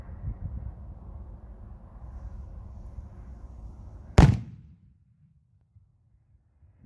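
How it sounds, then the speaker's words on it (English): A Dragon Black Box artillery firework salute shell bursts once with a sharp, loud bang, which cuts off into near silence after a short ring. Steady background noise runs beforehand. "And next up we have the Dragon Black Box artillery."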